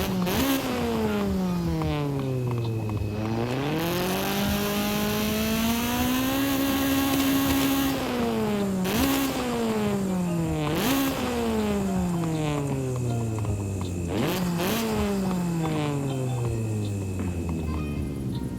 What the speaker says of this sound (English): You just heard the CRX in all its glory with also a stock exhaust